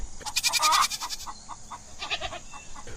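Goats and sheep of a nomadic herd bleat from close by in a horror cartoon story, one loud drawn-out wavering call followed by a softer second bleat, with no talking.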